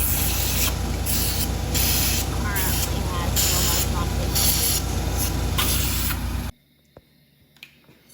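Loud, steady hiss of compressed air blowing out the engine parts of an OM606 diesel during a valve spring job, with pulsing bursts for about six seconds before it cuts off abruptly to near silence and a few small clicks.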